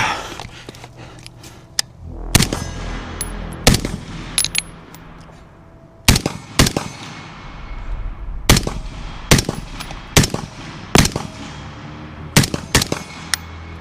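An 11.5-inch Centurion Arms AR-15 fires loud, sharp shots in irregular bursts and singles over a steady background, with metallic clinks that sound like ejected brass landing nearby.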